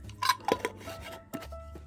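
A glass holding kava powder and water is shaken by hand, giving a few close, quick bursts of glassy rattling and sloshing over about two seconds, with short pauses between the shakes and no voices.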